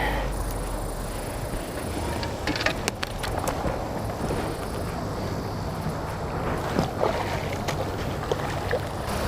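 A pedal drive kayak heads into river rapids below a spillway, with steady rushing water and wind buffeting the microphone throughout, plus occasional splashes and knocks against the hull.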